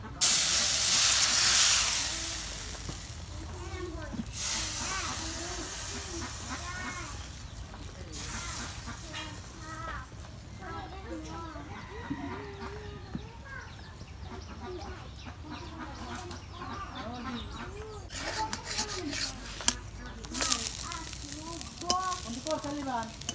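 Thin chhesra pitha batter fries in oil, a steady soft sizzle with bursts of spattering running throughout, while a voice talks over it at length.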